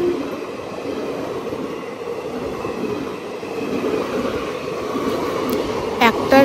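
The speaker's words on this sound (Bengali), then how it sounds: "একটার পর একটা লোকাল ট্রেন আসছে, কিন্তু এই স্টেশনে থামছে না" A local train rushes through a railway station without stopping, a loud continuous rumble and roar of wheels and carriages close by, ending with a brief high squeal near the end.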